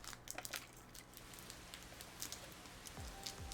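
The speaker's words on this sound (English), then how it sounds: "Oh my gosh, it's raining." Steady rain falls in the video game Master Detective Archives: Rain Code, a dense patter of drops with faint low rumbles beneath it, continuous throughout.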